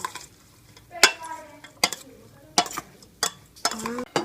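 Yam salad being stirred in a pan, a series of sharp clinking scrapes of utensil against the pan at irregular intervals, close and distinct against a quiet background.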